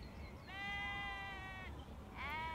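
A sheep bleats twice, a long wavering cry followed by a shorter one, clear and moderately near over a low background hum.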